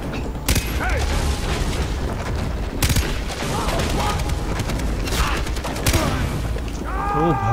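Gunfire rattles through a Far Cry 3 firefight in several sharp bursts and single shots, loud and close, mixed with in-game clatter and voices talking in between.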